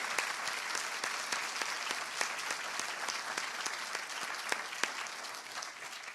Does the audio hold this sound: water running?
no